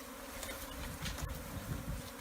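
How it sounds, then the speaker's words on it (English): A swarm of African killer bees buzzes continuously at a hive, a dense, close, steady hum with no talking. "I don't know if you can hear all the bees."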